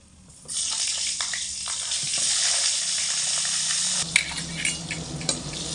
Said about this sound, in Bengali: কড়াইতে আবারও কিছুটা তেল দিয়ে শিমগুলোকে ভেজে নেব।